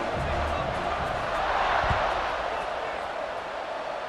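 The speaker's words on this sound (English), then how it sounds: "this crowd is buzzing after that last score" A stadium crowd in College Football 26 keeps up a dense, steady roar and buzz, loud and continuous with a faint thump partway through, while a commentator talks over it.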